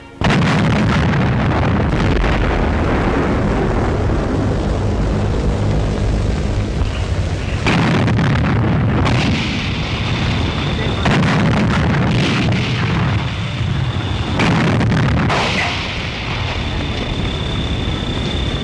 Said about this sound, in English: Siege of the doomed capital of Poland, the city under bombardment.